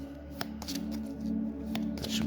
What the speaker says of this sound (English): let's give it a quick shuffle again